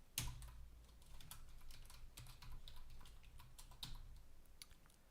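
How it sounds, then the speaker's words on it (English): Rapid, irregular keystrokes clatter on a computer keyboard, close and steady for several seconds with occasional heavier taps and no voices. "Typing."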